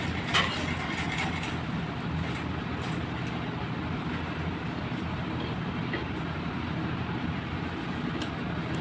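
Sewing machine stitching a seam on ladies' pants with a half-inch margin gives a steady, continuous mechanical whirr and clatter, close and moderately loud, with no talking.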